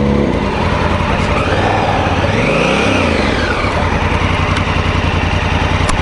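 Honda Africa Twin CRF1000L motorcycle engine running steadily while being ridden, a loud continuous drone with one rising and falling rev swell near the middle, close and dominant throughout with no talk.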